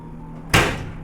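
An oven door shutting once in a home kitchen after a chocolate cake pan goes in to bake, a single firm thud with a short decaying rattle over quiet hum.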